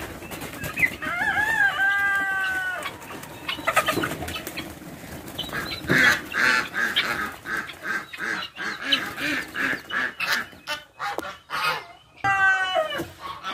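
Young turkeys and guinea fowl released into a yard flap their wings noisily and clatter about, with bursts of chirping and trilling calls and clucks from several birds scattered throughout, close and busy.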